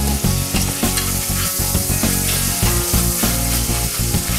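Cod fillet searing briefly in a hot pan, a loud, steady sizzle and crackle of frying that runs continuously throughout with no voices.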